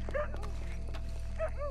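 A dog in the video game Red Dead Redemption 2 gives two short whimpering yelps, a second apart, over a low steady background hum.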